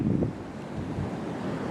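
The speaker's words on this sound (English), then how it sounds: "Still hear the ocean." Ocean surf and wind at the abandoned Fort Tilden army base in New York City, a steady broad rushing roar with wind buffeting the microphone, continuous and moderately loud with no voices.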